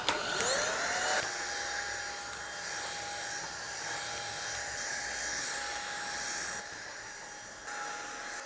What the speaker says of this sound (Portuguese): agora eu vou começar a aspirar a casa